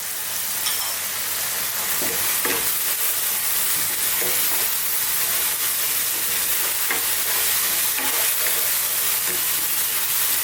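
Ground cumin, coriander, chili and turmeric sizzle steadily in a hot pan for a lamb karahi curry, with a constant bright frying hiss and faint scraping of stirring throughout, no talk.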